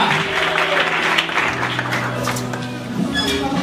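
A congregation claps at a wedding sermon, a brief, steady wash of applause filling the room from many hands, with a voice faintly audible beneath it.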